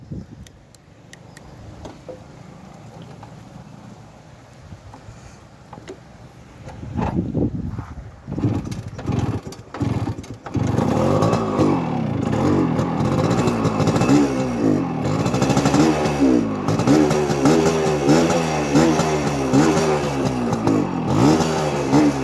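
Kawasaki KB100 motorcycle with a loud, aggressive exhaust, first idling and blipping, then revving hard in repeated rising and falling bursts that swell into a close, sustained throaty roar.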